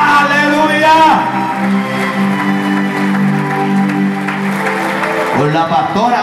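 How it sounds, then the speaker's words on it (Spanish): Applause from a church congregation during a Spanish-language service, steady and full for several seconds beneath sustained musical tones and voices, fading out near the end. "Denle un fuerte aplauso a los hijos que se siguen sumando."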